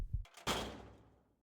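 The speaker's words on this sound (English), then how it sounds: "He slammed the front door shut, the sound echoing in the sudden silence." A door slams shut with a loud, sharp bang, preceded by a brief rattle, then the sound rings out and fades into silence.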